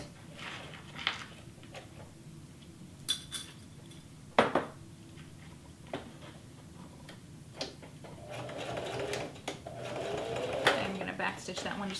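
A sewing machine stitches back over the elastic ends of a homemade cloth face mask, giving a close, steady mechanical whir with brief clicks and knocks throughout, and a sharper clatter near the middle.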